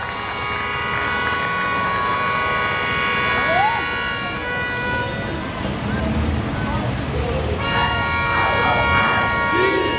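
Several car horns honk on a city street during an outdoor rally speech about a car-free town centre, short toots rising over steady traffic and crowd noise, with voices talking throughout.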